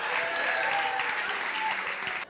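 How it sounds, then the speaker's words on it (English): A theatre audience at a comedy puppet show applauds a volunteer with a dense, steady wash of clapping that lasts about two seconds and then cuts off. "Give him a big round of applause, Angela."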